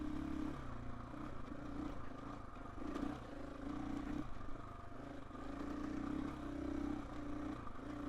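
A KTM 450 EXC-F dirt bike rolls across a wooden boardwalk on a trail, its engine drone steady and close, with clattering and knocking from the planks beneath the tyres and no voices.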